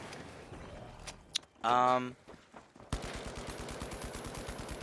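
AKM rifle fire in a shooting video game: scattered single shots, then a dense automatic burst and a long rapid string of reports, with a voice talking over parts of it.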